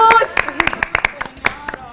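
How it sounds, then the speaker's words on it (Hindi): A talk show studio crowd claps for the show's team: a scattered run of sharp hand claps over about two seconds, mixed with voices talking. "हम खुद भरपूर तालियां बजाएंगे अपनी पूरी टीम के लिए"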